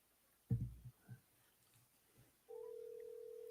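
A phone call rings out on the line: a few soft thumps and rustles, then a steady electronic ringback tone begins partway through and holds continuously, faint and clear with no voices.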